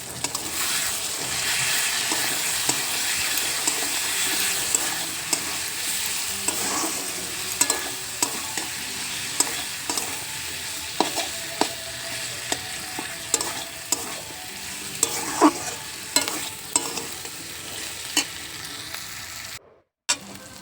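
Spices and turmeric sautéing in a pan for a mushroom curry, a continuous close sizzle with frequent spoon scrapes and clicks from stirring, no talking, cutting off briefly near the end.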